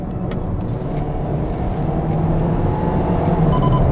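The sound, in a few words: Hyundai Elantra 2020 naturally aspirated engine accelerating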